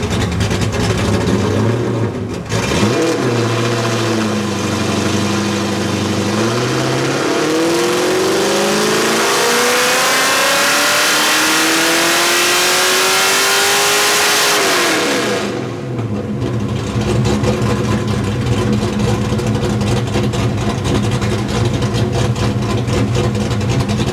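A naturally aspirated 347 stroker in a Foxbody Mustang with a Trick Flow 170cc head top-end kit makes a full dyno pull, loud and close, its engine note climbing steadily for about twelve seconds before dropping back to idle.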